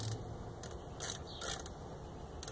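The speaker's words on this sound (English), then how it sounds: "Using a magnetic screwdriver to back that out." A magnetic screwdriver backs out a stuck Phillips screw inside a Mercedes-Benz ML 500 door panel, giving a few faint intermittent ratcheting clicks over a steady background hum.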